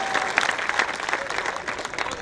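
Audience at a Hindi kavi sammelan comedy poetry event clapping steadily, a dense sustained burst of applause from a sizeable crowd, with faint voices mixed in.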